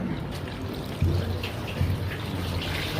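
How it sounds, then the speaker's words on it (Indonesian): Water poured over a body during ritual washing of a corpse, a continuous close splashing trickle with two slightly heavier gushes partway through and no talk over it. "Mohon siram air. Minta air cepet ya."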